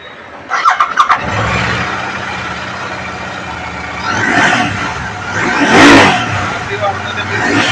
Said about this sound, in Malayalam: വണ്ടി ഒന്ന് സ്റ്റാർട്ട് ചെയ്ത് നോക്കാം.